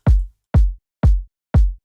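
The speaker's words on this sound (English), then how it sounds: "which is a really deep and solid kick from our pack Omnia" An electronic kick drum sample from the Omnia pack hits four times at an even pace, each a deep, punchy low thump with a short, tight decay and silence between hits.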